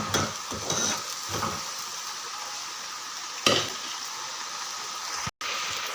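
Chillies frying in hot oil in a pan for a Marathi bitter gourd dish, giving a steady close sizzle with a few stirring clatters and a brief knock near the end.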